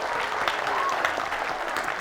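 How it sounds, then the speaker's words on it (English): A steady wash of audience applause fills a hall at the Shropshire Bookfest Big Book Award ceremony. The dense clapping is moderately quiet and continuous, with some voice faintly mixed in. "Let's give him a big clap."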